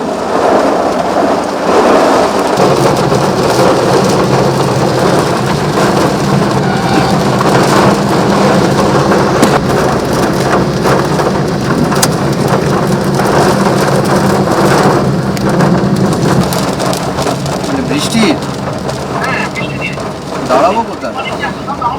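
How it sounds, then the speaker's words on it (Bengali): A heavy thunderstorm over Kolkata, with loud, continuous pouring rain and rolling thunder rumbling throughout. "বজ্রবিদ্যুৎ সহ একেবারে ঝেঁপে বৃষ্টি গোটা কলকাতা জুড়ে"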